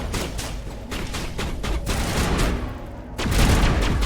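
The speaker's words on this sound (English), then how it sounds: "Where is this Geth you're shooting at?" Rapid video-game gunfire aimed at a Geth robot in Mass Effect, a steady clatter of repeated shots with a louder, heavier burst near the end.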